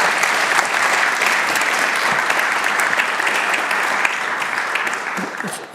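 A lecture audience claps in sustained, dense applause that stays loud and even for several seconds before easing off slightly at the end.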